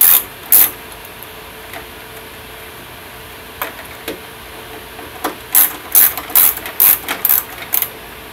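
A ratchet tightens car headlight bolts in a crisscross pattern during a headlight upgrade, giving scattered short bursts of close, crisp clicking that cluster more densely toward the end, with no talking.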